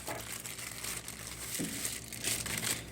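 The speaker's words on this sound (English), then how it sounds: "So let's unpack the keyboard first." Packaging for a Logitech MK220 wireless keyboard crinkles and rustles close up as it is unpacked, with steady handling noise and a couple of louder crackles, and no talking.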